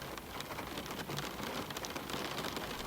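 Steady rain pours down during a storm, a dense even hiss of drops spattering on surfaces with no break, close and moderately loud throughout.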